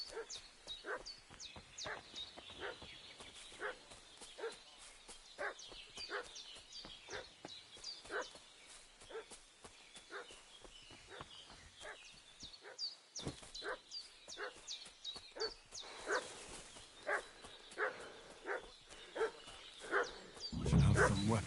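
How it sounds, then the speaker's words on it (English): A dog barks in Kingdom Come: Deliverance II, a long run of sharp, fairly close barks in an uneven rhythm, with a few whimpering yips and a louder rumbling burst near the end. "What's that dog making such a fuss about?"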